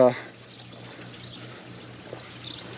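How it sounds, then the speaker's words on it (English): Water from a garden hose or sprinkler runs onto corn plants outdoors in hot weather, making a steady, faint hiss that continues throughout over a low background hum. "So turned on the water to the corn."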